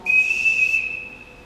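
A single high, steady whistle blast on stage, loud and clear, fading out over about a second and a half in a school theatre production of The Sound of Music.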